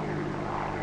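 Engines of a Consolidated PBY patrol bomber, a twin-engine flying boat with a 100-foot wingspan, in flight: a steady, loud propeller drone without breaks.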